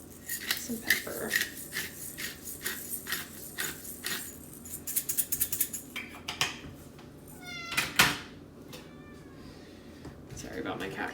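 A cat meows several times, short repeated cries that come up close, mixed with clinking dishes and kitchen clatter.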